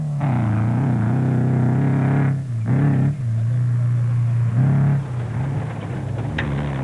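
Castrol Toyota Hilux rally truck running on 2-wheel drive in the Sun City 400 off-road race, a loud sustained engine drone with brief dips and surges as the revs drop and climb again.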